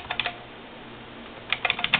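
Keys clack on an IBM RS6000 computer keyboard, a short burst of taps, then a pause, then a quicker run of uneven keystrokes, close and moderately loud with no talking.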